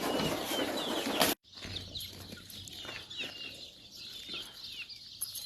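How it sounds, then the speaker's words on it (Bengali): Native Bangladeshi chickens on a farm of about 200 birds make steady clucking and chirping. A short loud burst comes at the start, then a moderate, continuous flock chatter. "এখানে প্রায় 200-র মতো মুরগি আছে"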